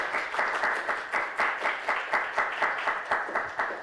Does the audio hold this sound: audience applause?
yes